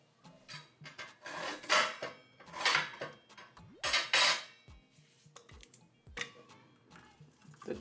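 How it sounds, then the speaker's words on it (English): Knife cutting ginger on a wooden board in a home kitchen, a run of quick, dry chopping strokes in bursts with small scraping rubs between them, close and fairly quiet, no talking. "I'm going to cut the ginger"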